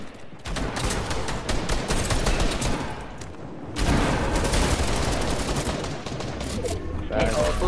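Dense gunfire crackles from a competitive Fortnite match played on console, with sustained rapid volleys, a short lull, then another long burst of shooting.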